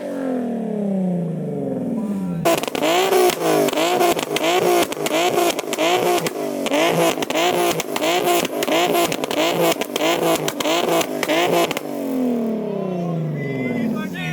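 Flame-tuned Nissan 370Z with rolling anti-lag, revving hard in repeated sharp bursts with rapid popping exhaust crackles, loud and close after a brief quieter start, with people talking before and after.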